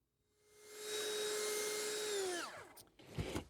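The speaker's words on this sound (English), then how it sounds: "let's be a cheapskate and hoover the old one instead" A vacuum cleaner hoovers an old Nissan Primera P12 cabin filter, its motor winding up to a steady high whine, then spinning down with a falling pitch, followed by a few clunks and rustles.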